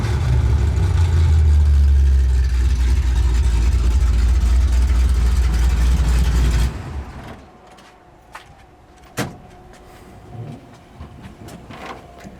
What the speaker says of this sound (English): I'm gonna rev it up out the tailpipe.